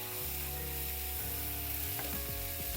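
Onion and garlic paste frying in a pan, a steady loud sizzle with a spatula scraping and stirring near the end, no talking.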